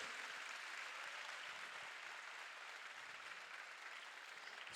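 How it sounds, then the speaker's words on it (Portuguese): Congregation applauding in church during a sermon, a steady, fairly faint broadband wash of clapping held evenly throughout with no voices over it. "Pode aplaudir a Jesus."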